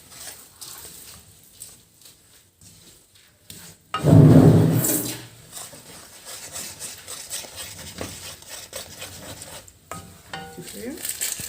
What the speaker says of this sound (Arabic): السوداني والسمسم ابتدوا بقى يتحمصوا